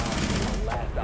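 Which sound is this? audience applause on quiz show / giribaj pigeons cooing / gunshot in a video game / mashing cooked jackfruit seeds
gunshot in a video game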